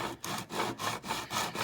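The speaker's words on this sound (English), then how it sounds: "The good thing about this sanding block is you just keep going back and forth with it." Sanding block pushed back and forth along wood while building a model shack wall, a close, steady rasping rub in regular strokes about every quarter second, with no voices.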